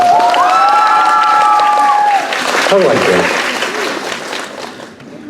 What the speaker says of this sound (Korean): 스태프들한테 한 번 박수 크게 한번 부탁